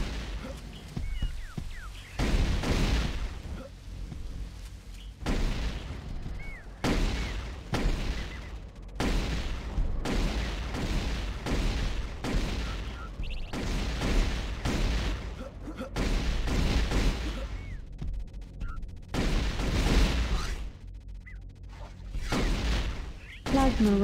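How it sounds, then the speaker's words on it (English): Repeated bursts of plasma rifle fire in a multiplayer shooter game, loud and near, coming in uneven volleys with short gaps between them over a steady background of game noise. "Plasma rifle, plasma rifle."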